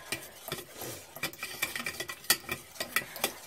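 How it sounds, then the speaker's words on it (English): White gravy made from a flour-and-milk roux is stirred in a pan, with a spoon scraping and clinking against the metal in quick, repeated strokes, close and moderately loud, with no talking. "So I'm going to continue to stir"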